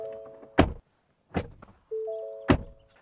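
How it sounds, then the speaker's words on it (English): The door of a 2024 Ford F-150 pickup is shut three times in quick succession, each a sharp, solid thud close by, with a faint electronic chime sounding between slams. "this is what the door slam sounds like"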